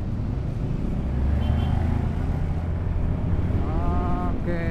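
Honda Fazzio 125 hybrid scooter on a test ride, a steady engine drone mixed with wind buffeting on the microphone, close and continuous throughout.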